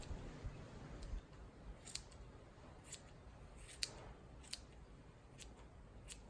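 Sharp scissors snip at a horse's ear hair in a series of quiet, crisp cuts, spaced irregularly at close range against a soft background hiss.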